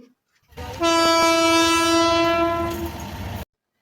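A train rolls past a closed railway crossing with a loud, sustained horn blast, two short sharper accents near the start, and rumbling wheels underneath, all close and continuous for about three seconds.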